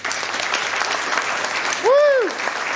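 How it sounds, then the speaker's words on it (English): An audience at an evening political gathering claps in a steady wash of applause, then a loud whistle swoops up and down near the end over the clapping. "Give Evan a clap."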